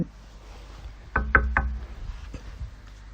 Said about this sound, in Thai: และแล้วเสียงประตูห้องก็ดังขึ้น